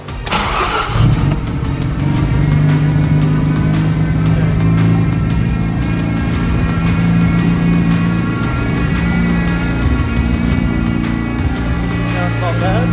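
A barn-find Mazda RX-7 with fresh spark plugs cranks and fires, then settles into a loud, steady idle with a rough, buzzing rotary tone that runs on without a break.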